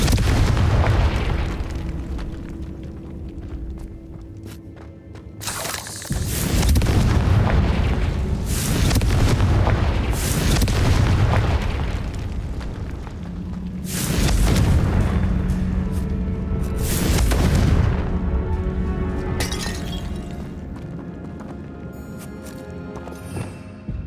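Confringo spell blasts in the Hogwarts Legacy game, a series of loud booming fiery explosions with rumbling bursts and crackling debris, several heavy impacts spread across the stretch.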